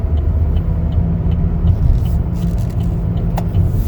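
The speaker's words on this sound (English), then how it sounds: "we're going to check the brakes now." Steady low engine rumble of a 2021 Chevrolet Equinox LT braking and turning, with faint road noise and a brief soft squeak near the end; no distinct screech.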